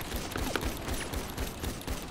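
Rubber-bullet gunfire in a GTA roleplay game, a dense rapid burst of repeated shots filling the whole moment, loud and continuous with no talking.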